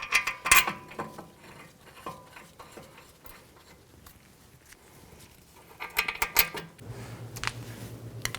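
Metal bolts are fitted and threaded into a brake caliper bracket on a 2006-10 Mercury Mountaineer, with several sharp close clinks and ratcheting clicks separated by quieter handling sounds.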